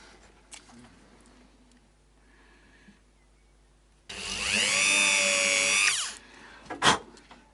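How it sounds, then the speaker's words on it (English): A power drill whirs for about two seconds close by, drilling into the headstock of a Fender Stratocaster guitar, preceded by faint handling clicks and followed by a few knocks. "Very steady hand needed when drilling into things like guitar headstocks"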